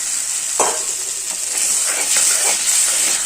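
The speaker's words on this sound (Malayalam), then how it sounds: "തിളച്ച വെള്ളം ഒഴിക്കാം" Boiling water is poured into a tuna and sour mango curry gravy in a pan, a close hot sizzle and steamy hiss with a few bursts of bubbling crackle, and no voices.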